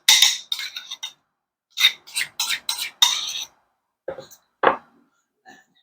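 Plain Greek yogurt from a 16-ounce container being stirred with chopped cucumber in a bowl, giving a series of short clinking, scraping strokes in bursts with brief pauses, close and fairly clear.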